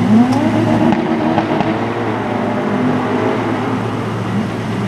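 Street race cars, one of them a Chevy Nova, launch off the line in a loud roaring burst of engines that settles into a steady rumbling drone as they pull away.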